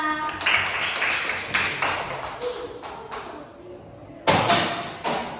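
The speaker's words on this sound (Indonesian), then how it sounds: "Tepuk tangan untuk Akila" Schoolchildren in a classroom break into a round of applause for a classmate: a dense, fairly loud patter of many hands that fades, then swells again in a second shorter burst near the end.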